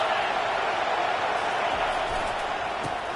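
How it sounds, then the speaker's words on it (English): Stadium crowd at a Texas football game roars as a steady, dense, loud wash of noise with no breaks, filling the space without distinct voices. "Listen to this crowd just shaking the girders of this place"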